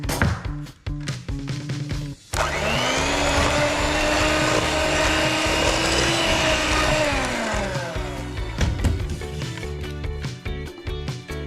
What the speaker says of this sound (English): finish it off again with the hand mixer